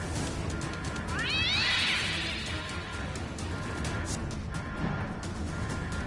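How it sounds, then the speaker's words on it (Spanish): A cat in a South Park cartoon scene lets out a loud, drawn-out meow over busy background sound, with no talking over it. "¡Miau!"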